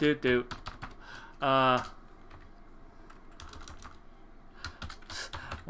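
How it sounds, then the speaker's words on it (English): Steady clicking of typing on a computer keyboard, close and fairly quiet, with a few short voice sounds over it. "Don't mind me as I type away on my keyboard."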